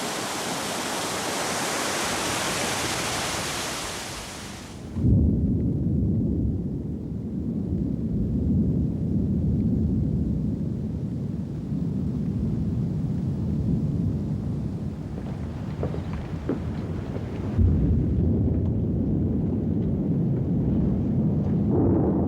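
Heavy tropical wet-season downpour at Port Keats: a dense roar of rain that drops abruptly to a lower, steady rumbling wash, with faint distant thunder rolling underneath and no voices.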